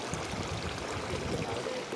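Water streams steadily out of a breached dam in a rice field, a constant close rushing trickle with no pauses.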